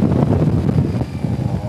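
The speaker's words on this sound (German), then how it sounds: "ich kämpfe gerade hier gegen den Wind" Strong wind buffets a motorcyclist riding in Corsica, a loud, continuous low roar of gusting air rumbling across the microphone, heavy and unbroken for the whole moment.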